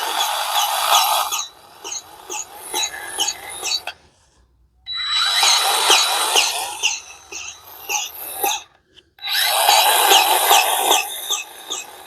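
A grease gun is pumped into the kingpin zerks of a John Deere 125 Automatic lawn tractor, giving three long bursts of squeaky, ratcheting mechanical squeals separated by short silent pauses, close and fairly loud.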